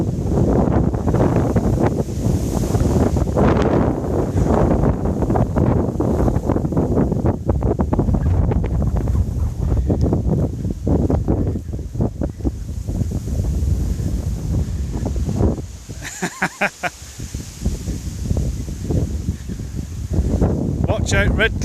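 Gusty wind buffets the microphone throughout a countryside walk, a loud broadband rumble that dips briefly near the end, with people talking underneath.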